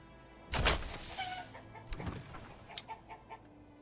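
Chickens cluck in the village-building game Manor Lords, a burst of flapping and clucking followed by scattered short clucks at moderate distance, with no talk.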